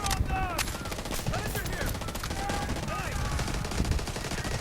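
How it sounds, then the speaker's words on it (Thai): Fast automatic fire from a sixty-round-magazine gun in Delta Force rattles in a steady, unbroken stream, loud and close, with someone talking over the shooting. "กระสุนออกมาแม็กละหกสิบนัดนะทุกคนอัตราในการลั่นเร็วเกินนะ"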